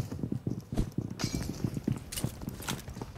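Rapid, steady enemy footsteps in a video game, a run of close, regular thumping steps with some brighter clattering layered on top and no talking.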